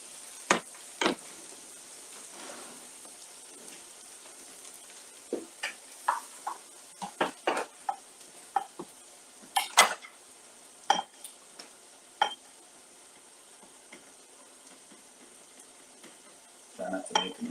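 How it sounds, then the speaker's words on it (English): Angus ground beef cooking in a pan on a stove gives a soft, steady sizzle, broken by scattered clinks and scrapes of a utensil stirring against the pan. "we can go ahead and put this in the pan stove"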